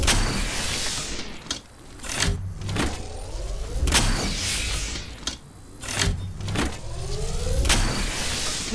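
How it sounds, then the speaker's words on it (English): Shield recharging in a video game, repeated rising electric whirring surges with sharp clicks between them, several cycles in a row, close and moderately loud with no talk. "Recharging my shield."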